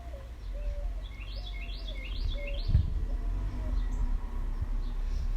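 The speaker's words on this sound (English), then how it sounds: "Birds are singing like crazy." Several small birds sing outdoors on a warm day, repeated bright rising chirps and whistled phrases at moderate distance over a steady low background hum.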